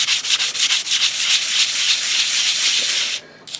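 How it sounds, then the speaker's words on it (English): Sandpaper rubbing in a steady, rough scrape against a safflorite mineral specimen during fine-grit polishing, close and continuous for several seconds with rhythmic strokes, then a brief pause near the end. "I'll use higher grits of sandpaper to actually polish"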